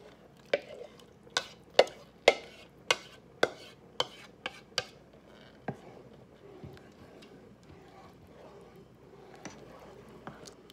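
A spoon stirs potato soup thickened with sour cream in a pressure cooker, giving a run of sharp scraping knocks in a steady rhythm that then fade to softer, sparser taps against the pot.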